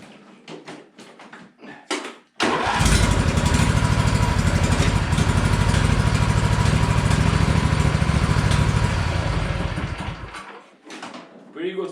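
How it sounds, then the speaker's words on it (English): A small lawn mower engine pulled to start, catching after a couple of seconds into a loud, steady running roar close by, then cutting off near the end, with someone talking briefly before and after. "I'm just going to do a small engine start."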